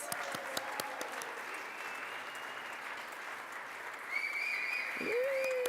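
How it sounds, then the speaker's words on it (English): Audience clapping at an international trustbuilding awards ceremony, a steady mid-level wash of applause that swells slightly near the end, with a faint whistle or cheer rising over it. "Big round of applause."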